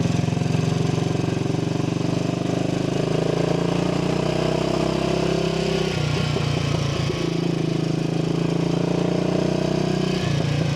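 A Royal Enfield motorcycle, recently given a carburettor rebuild, is ridden along a road, its single engine droning loud and steady with a couple of throttle changes, and no talking.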